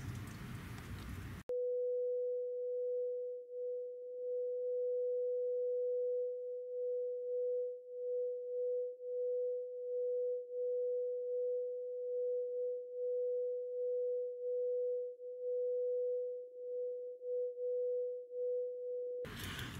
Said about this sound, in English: This is just a plain CW or continuous wave.